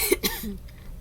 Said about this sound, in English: I personally have a cough still apparently